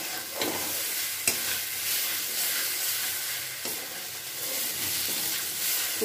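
A spatula stirs a thick, sticky green bean mash in a pan, producing a steady soft sizzling and scraping texture throughout, with occasional sharper clicks as the utensil knocks the pan.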